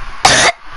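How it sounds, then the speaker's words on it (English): A single harsh cough from a person who says they are ill with a bad cough, one loud close burst lasting about a quarter second, with quiet before and after. "I got a really bad cough"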